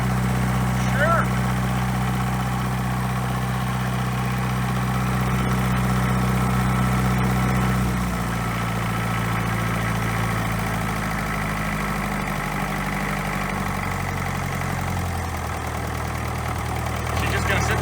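A cheap engine-drive welder bought secondhand idles steadily nearby, a low continuous rumble whose pitch settles lower partway through, alone with no talk.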